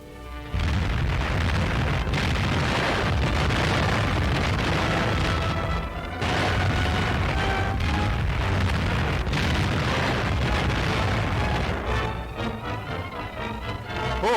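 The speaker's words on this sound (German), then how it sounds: "Auch in Ungarn mussten gewaltige Eismengen, die sich auf der Donau gebildet hatten, gesprengt werden." Explosive charges blast massive ice buildup on the Danube in Hungary, a run of loud, heavy booms and rolling rumbles that fill the scene with brief gaps between blasts.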